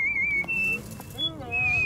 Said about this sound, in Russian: Не свисти, говорю.